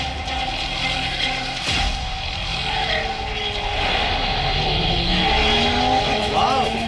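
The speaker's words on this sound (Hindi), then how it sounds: "वाह, खोखला भाई ने कितना स्मूथली यू टर्न लिया, पर तुम्हारी गाड़ी तो उस ड्रम की आग में फंस जाएगी।" A race car swings through a smooth U-turn during a race, engine whine and tire skid over a constant roar, with a sharp impact and sweeping pitch glides near the end.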